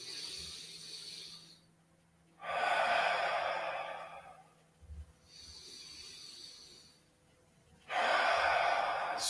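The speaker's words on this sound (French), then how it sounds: "Encore 2 respirations." Slow, deep relaxation breaths: long airy inhales and exhales rise and fall in a calm cycle, close and clear, with quiet pauses between them and no talking.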